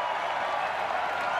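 Big crowd at Chichibu Stadium in Tokyo cheering during a Sunwolves versus Highlanders rugby match, a steady, dense roar of voices and applause sustained throughout without a break.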